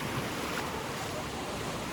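Ocean surf rolls onto Miramar Beach in Destin, Florida, a steady broadband wash of waves blended with gusty wind buffeting the microphone, continuous and fairly loud with no voices.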